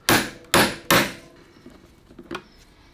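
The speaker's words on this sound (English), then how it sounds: "you basically just have to give it a sharp tap with a hammer" A hammer strikes a chain rivet tool three times in quick, sharp, loud taps during a motorbike chain and sprocket change, followed by a few faint clicks.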